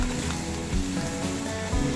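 Onions fry slowly in a pan over a low gas flame, giving a soft, continuous sizzle and crackle that holds steady throughout the short stretch, with no talking.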